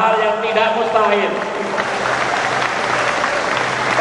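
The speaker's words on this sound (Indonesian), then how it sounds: "Kita beri tepuk tangan" Audience clapping at an Indonesian university graduation ceremony, rising under a man's amplified speech at first and then continuing as steady applause filling the hall.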